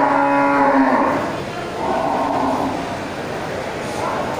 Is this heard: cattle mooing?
yes